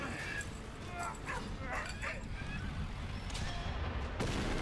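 A dog caught in barbed wire whimpers and yips in short, pitched cries within a Valiant Hearts World War I battlefield scene, set against a constant backdrop of game ambience with a louder thump near the end.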